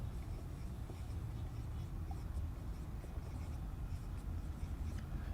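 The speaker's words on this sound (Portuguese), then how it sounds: "eu vou escrever isso aqui, ó" Chalk or marker scratching steadily on a board during a math lesson for an Enem exam prep course, a continuous soft scraping with no one speaking over it.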